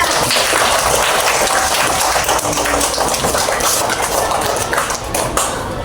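Fourth-grade primary school pupils clap for a classmate in a classroom, with a dense, continuous patter of many small hands, fairly loud and close, running for several seconds without talk.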